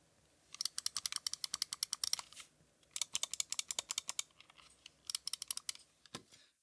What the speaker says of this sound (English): just to listen to the actual mouse clicks themselves, this is my old Ultimate going first